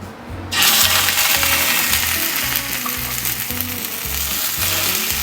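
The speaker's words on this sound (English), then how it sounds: "Hear that sizzle?" Venison backstrap hits a hot cast iron pan and a loud sizzle erupts suddenly, then keeps hissing and crackling steadily with soft metallic scraping beneath.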